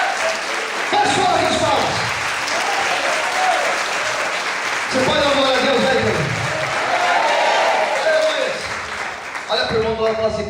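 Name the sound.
congregation clapping hands in worship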